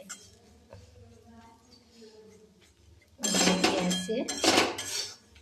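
Food in a metal pan is stirred and tossed, with loud close clattering scrapes of a utensil against the pan in the second half, after quieter kitchen sounds.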